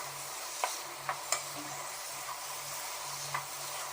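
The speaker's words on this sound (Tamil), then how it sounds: "நல்லா இந்த மாதிரி கலந்து விட்டுட்டு" Chicken chukka is stirred in a pan with a soft, steady sizzle and a few light scraping taps of a spoon against the pan.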